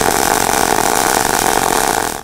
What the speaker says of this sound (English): What are you grinding your tungsten on?